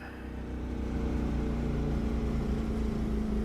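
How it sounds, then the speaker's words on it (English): Race car engine in the sim racing game Automobilista 2, a loud steady droning hum with strong low harmonics, held at constant pitch throughout without talk. "This engine is a bit loud."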